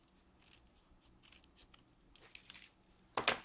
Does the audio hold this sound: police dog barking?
no